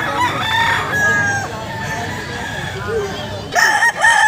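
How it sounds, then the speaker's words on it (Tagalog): A rooster crows loudly near the end, with another crow earlier, over a steady background of murmuring voices and farmyard noise. "Kasi nga daw yung manok ni Boss Kenneth"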